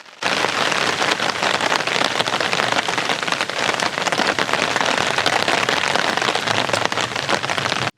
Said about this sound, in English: it seems like the rain is starting to make its way in here to stay